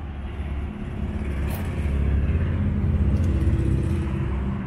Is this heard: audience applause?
no